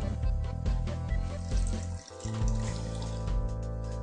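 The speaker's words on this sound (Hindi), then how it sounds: "सिरका डालने के बाद आप 100 मिलीलीटर पानी पैन में डाल दें" Water poured into a pan holding tomato paste, a steady splashing, gurgling pour close by that briefly dips midway before carrying on, with no talking.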